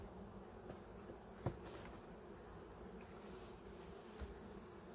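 Honeybees buzzing around a hive during a shook swarm, a steady close droning hum from many bees with a couple of faint knocks and no talk.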